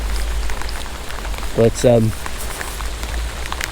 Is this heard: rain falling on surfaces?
yes